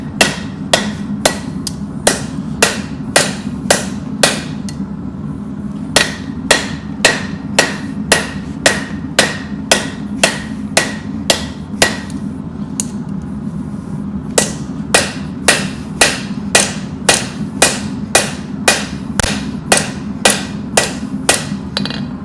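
A hammer forges a knife handle over the horn of an anvil, ringing out sharp, loud metallic strikes in a quick steady rhythm, with a few brief pauses between bursts and a low hum beneath.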